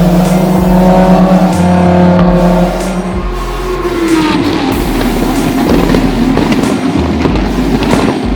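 Lamborghini Super Trofeo race cars roar past loudly at Watkins Glen, high engine tones rising and falling as several cars pass in a dense wall of sound that gives way to rasping, crackling exhaust noise.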